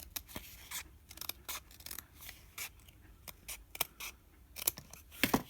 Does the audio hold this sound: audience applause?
no